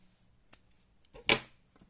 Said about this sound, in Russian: Теперь обрезаю ниточку желтую,